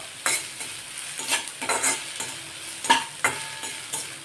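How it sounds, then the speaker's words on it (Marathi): Vegetables stir-fried in a pan for veg fried rice, with repeated sharp spatula scrapes and tosses over a steady sizzle, close and loud, with no talk. "एक मिनिट मिनिटभर ह्या भाज्या परतून झाल्या की"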